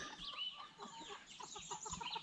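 A Belgian Giant Liège fighter rooster in a dog pen gives soft, broken clucks and low calls, a close, steady series of short bird sounds with no talk.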